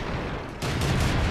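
Tank cannon fire in World of Tanks, a sudden loud blast that cuts in midway and rolls into a sustained booming rumble, close and forceful.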